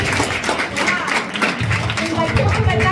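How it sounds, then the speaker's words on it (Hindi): Audience clapping at a Jawahar Navodaya Vidyalaya school event, a brisk, fairly loud patter of many hands that continues under a speaking voice and crowd noise. "और आप लोग खुद अपनी ताली बजाओ।"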